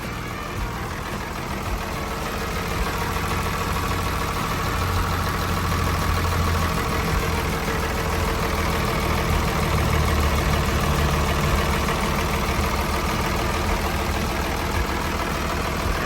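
A Komatsu WA150-3E wheel loader's 6D102 diesel engine idles steadily and close by, a continuous low rumble with a rough, even knock that holds for the whole stretch without pause.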